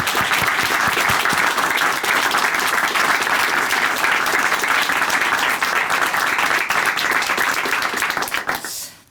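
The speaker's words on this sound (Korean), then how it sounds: "함께 은혜 나눠주신 자매님께 박수로 또 응원해드리겠습니다." A studio audience at a Korean Christian television testimony program applauds loudly and steadily for about eight seconds, then the clapping fades out abruptly at the end.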